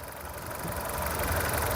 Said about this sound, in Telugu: ఇంజన్ బీటింగ్ కూడా చూడండి,